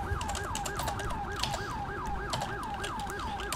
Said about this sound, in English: Let me shut my siren off.